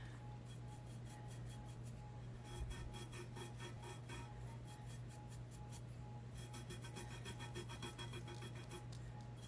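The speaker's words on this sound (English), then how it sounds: "I'll burnish this guy" A butterfly wing template is burnished onto a tumbler with faint, repeated rubbing strokes in short rhythmic bursts over a steady low hum, quiet and close.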